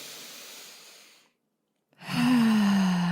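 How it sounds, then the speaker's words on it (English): A person takes a deep breath during a guided mindfulness exercise: a soft, long exhale fades into silence, then a fuller, breathy inhale follows close to the microphone. "to take a deep breath"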